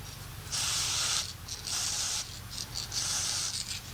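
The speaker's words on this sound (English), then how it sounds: "Spray on dry lube, whether it's this stuff or whether you want to use silicone stick" Dry lube from a spray can hisses out in three separate bursts, the first long and the next two shorter and broken, close up and fairly quiet with no talking.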